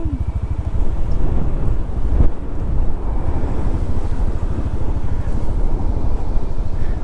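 Strong wind buffets a microphone on a mountain-top rock garden, a loud continuous rumbling roar with gusty surges, steady throughout with no talk.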